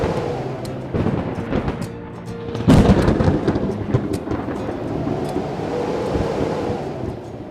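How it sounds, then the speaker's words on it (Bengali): A night thunderstorm rolls in: loud cracks and deep rumbles of thunder break over a constant wash of heavy rain and wind, with one especially strong clap midway. "হঠাৎই আকাশে বজ্র বিদ্যুৎ সহ ঝড় ওঠে।"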